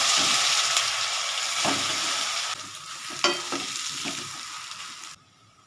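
A spoonful of panch phoron and dry red chillies sizzles hard in hot oil for a spiced vegetable paratha, stirred with scraping clinks. The loud, crackling fry softens partway through and cuts off near the end, with no talking.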